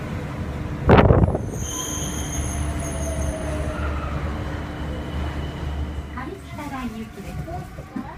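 A Tama Toshi Monorail train at Tachikawa-Kita station rumbles steadily and hisses as it pulls in, with a sharp burst near the start and squealing wheels fading toward the end.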